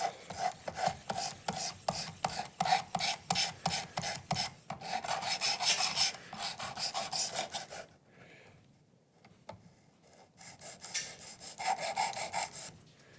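Rhythmic rasping strokes of a knife blade drawn across a 320-grit abrasive on a Work Sharp Precision Adjust sharpener, close and steady, with a short pause before the strokes resume.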